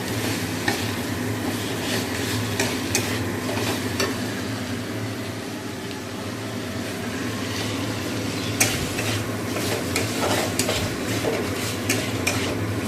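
Chicken cooks down in a pan for a home-style curry, a continuous close sizzle broken by scraping stirs and utensil clicks against the pan.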